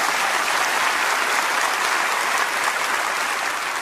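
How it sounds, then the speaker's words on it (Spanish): A church congregation bursts into sustained applause, a dense, even wash of clapping from many hands that holds steady throughout with no voices over it. "Dale un aplauso al Señor"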